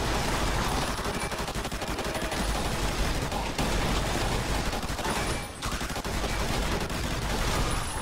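A light machine gun fires in continuous, dense bursts at ghouls in Fallout: New Vegas, loud and sustained throughout with one brief dip, and no talking.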